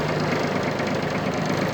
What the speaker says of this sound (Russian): Давайте посмотрим, как работает у нас вал отбора мощности